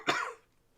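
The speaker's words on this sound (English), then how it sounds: "Oh dear, I've got a cough now." A single short, sharp cough lands close to the mic, then quickly fades into quiet.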